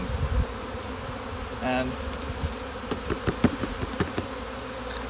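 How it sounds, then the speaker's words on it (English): Honeybees buzzing in a steady hum with brief louder passes and scattered clicks; a single spoken word near the start. "a lot of the bees will fly out, but a lot of the bees are going to stay behind"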